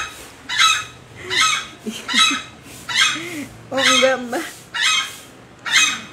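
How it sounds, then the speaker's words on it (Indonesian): Bantam chicken with small legs clucking and honking in repeated bursts about once a second, close by, with someone speaking briefly in between. "yang ini ayam kate"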